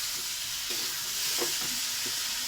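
Ginger paste is stirred in a hot pan with green chillies and tomato, giving a continuous loud sizzle with soft scraping strokes of a spoon beneath it.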